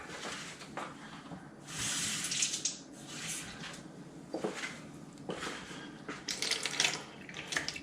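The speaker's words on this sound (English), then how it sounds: "I'm going to add about half a cup of water" About half a cup of water pours into a buttermilk egg batter for grilled fried chicken, giving a splashing, trickling wash in several bursts, fairly close and loud.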